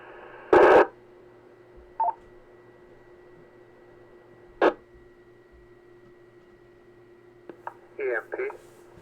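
Short bursts of DTMF keypad tones come over an amateur radio net, scattered among several brief squelch clicks and key-ups against a steady hum, with faint radio noise between.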